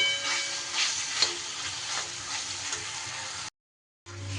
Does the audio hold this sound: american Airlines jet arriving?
no